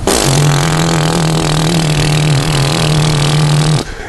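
A Vespa scooter engine revs loud and close with a steady buzzing drone, holding its pitch for several seconds before cutting off abruptly near the end.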